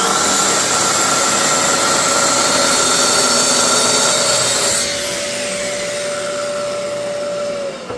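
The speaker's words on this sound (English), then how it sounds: "when we turn the saw on, the shop vac will turn on, and we'll start collecting dust." A Festool TS 55 FEQ track saw runs with a shop vacuum attached, a loud sustained whine and roar that drops in pitch and level midway as the saw winds down while the vacuum keeps going.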